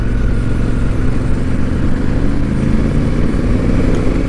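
A Honda Africa Twin motorcycle ridden off-road on rural dirt tracks, its engine a loud, continuous low rumble heard up close, with a rough, steady drone and some clatter.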